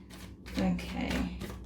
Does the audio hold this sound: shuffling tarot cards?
yes